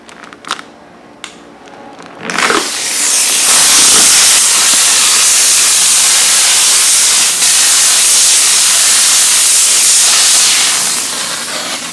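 A steamer lifts vehicle wrap film: after a few light taps and handling clicks, a loud, steady, close hiss of steam starts and holds for about nine seconds, tapering slightly at the end.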